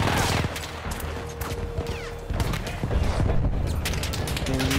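Rapid gunfire from an inaccurate weapon in Battlefield 1, a steady, dense clatter of shots with mechanical rattles underneath. It stays loud and close throughout the short burst.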